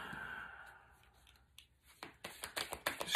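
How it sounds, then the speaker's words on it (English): A deck of tarot cards is shuffled close by, giving soft sliding rustles that build into a quick series of crisp riffled flutters and snaps toward the end. "Before we do that, I'm going to shuffle these cards up."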